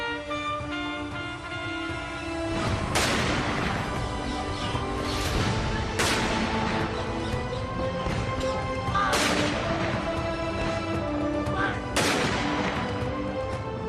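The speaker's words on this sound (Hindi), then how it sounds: "सत्रह तोपों की सलामी" Four heavy ceremonial cannon salute blasts boom out at regular intervals at a funeral, each a sharp broadband crack with a rolling tail, over a steady background.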